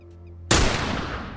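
A single sharp, loud sniper rifle shot in The Last of Us Remastered video game cracks after a brief quiet hum, then rings out in a long decaying echo.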